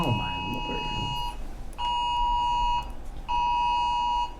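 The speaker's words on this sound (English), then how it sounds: "Turn off your phone, Bo." Electronic alarm beeping in long repeated tones, three loud sustained bursts with short gaps, close and clear, with a voice briefly heard at the start.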